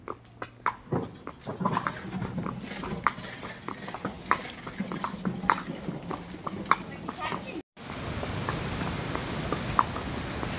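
Horse hooves clip-clopping on the sand of Seminyak beach in Bali during a sunrise ride from a stable, a steady rhythm of close steps with people talking throughout.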